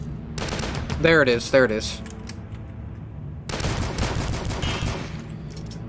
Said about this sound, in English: that hunting rifle is amazing